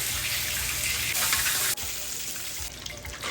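Carrots, scallion, sweet red and green peppers, onion and ginger fry in hot oil, a dense, steady hiss and crackle that swells louder midway, then settles into a slightly quieter sizzle.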